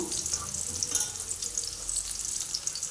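Onions, garlic, mustard seeds and cumin frying in a pan, a continuous close hiss and sizzle with light crackle, steady and moderately loud with no talk.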